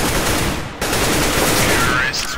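Rapid automatic gunfire from Counter-Strike: Global Offensive rattles loudly and continuously through a short burst, with a brief dip partway before resuming.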